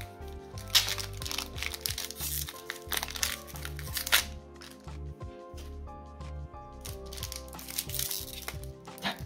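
A Pokémon booster pack wrapper being opened and handled up close, with continuous crackling and crinkling foil over a bed of background music.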